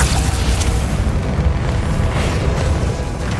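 Spell explosions blast in a battle in the video game Hogwarts Legacy, a dense, rumbling roar of booms that runs loud and unbroken for the whole stretch, with no voices over it.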